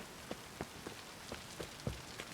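Rain falls in The Witcher 3: Wild Hunt, a soft, steady patter on surfaces broken by sharper drops landing at a loose, regular pace, with no talking over it.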